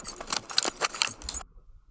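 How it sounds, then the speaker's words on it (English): Granulized metallic sounds form a brief burst of jangling, key-like metal clinks and shimmering fragments at moderate level, stopping suddenly. "chuck that into a granulizer. And you get these like cool kind of metallic sounds"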